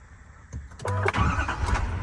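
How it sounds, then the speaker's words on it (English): A 2024 Chevrolet Silverado 2500HD with the L5P Duramax diesel cranks and fires up, then settles into a steady, close, loud rumble with no talking. "cut the truck back on"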